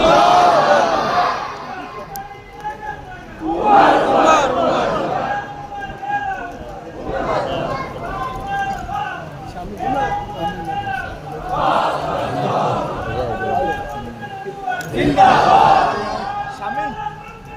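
A large religious gathering roars the takbir chant back in loud, repeated waves, with a leading voice between the bursts of mass shouting.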